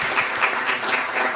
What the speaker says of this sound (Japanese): 改めまして、お四方に拍手で感謝の意を表したいと思います。